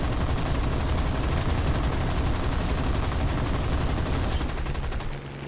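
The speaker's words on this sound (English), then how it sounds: "Oh, that was my cannons." Rapid, continuous aircraft cannon fire in War Thunder roars in a dense unbroken burst for several seconds, loud and close, then cuts off abruptly.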